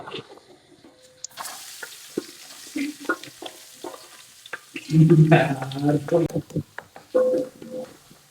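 Sliced onion hitting hot coconut oil in a pan, a loud sizzle bursting in midway and continuing with stirring clatter, heard under a person talking while cooking a crab roast.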